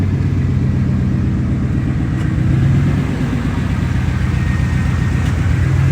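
A 1989 Chevrolet C1500 pickup with custom exhaust idles steadily up close, a deep continuous low rumble with no talk over it.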